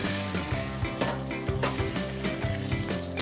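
Meat searing quickly on a hot griddle plate, a continuous close sizzle with rhythmic tonal clatter and scraping running throughout, no voices.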